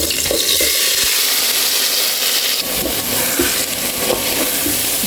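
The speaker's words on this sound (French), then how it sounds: "Nous passons à l'étape suivante de la friture du riz." Rice frying in a pan for Cantonese fried rice gives a steady, loud, hissing sizzle that runs continuously without pause.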